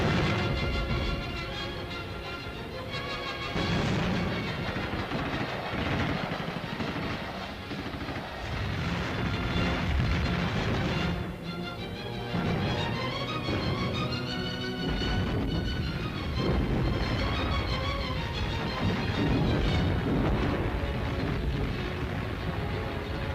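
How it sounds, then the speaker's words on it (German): A dense, continuous barrage of German anti-aircraft flak guns firing and explosions in 1944 wartime combat, heavy low rumbling with repeated blasts overlapping for a long stretch, loud and relentless. "Die Flak schießt aus allen Rohren"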